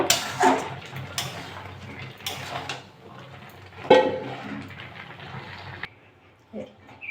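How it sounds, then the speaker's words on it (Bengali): Boiled taro (kochu shak) leaves tipped out of a pot in a home kitchen: a few clattering knocks of cookware with wet sloshing, close and moderately loud, with brief speech between. "কচু শাকগুলো আমার সিদ্ধ হয়ে গেছে সবগুলো, আমি এবার ঢেলে নেব।"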